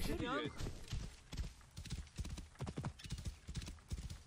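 A horse whinnies, then hooves clip-clop in a quick, steady rhythm in the video game Assassin's Creed Origins, close and even throughout.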